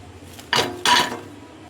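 Crispy golden fried potato snacks are tipped into a bowl, making two quick bright clattering rustles in close succession, sharp and crunchy against a quiet background, with no one talking.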